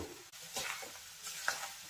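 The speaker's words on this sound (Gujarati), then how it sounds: "હવે મસાલાને આપણે મિક્સ કરી લઈએ" Soft scraping of a spoon stirring spices and potatoes through a pan, with faint sizzling and a few light clicks, close and quiet, no talking.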